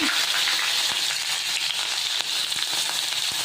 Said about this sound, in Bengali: এটার মধ্যে জিরে ফোড়ন শুকনো লঙ্কা ফোড়ন আর একটু পেঁয়াজ কুচি দিলাম